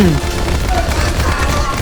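Rapid machine-gun bursts from a World War II aircraft in the video game War Thunder, a dense, continuous rattle of fire with engine drone, loud and close over about two seconds, with a voice briefly under it.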